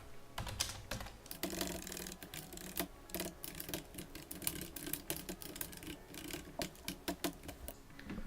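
Rapid, irregular keystrokes clatter on a computer keyboard while code is typed, with bursts of clicks and short pauses, close and fairly loud throughout.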